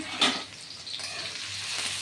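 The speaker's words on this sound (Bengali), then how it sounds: "আলুটা লাল হয়ে ভাজা হোক" A steady, moderate sizzle of potatoes frying in oil, with a brief stir at the start and the crackle continuing evenly underneath.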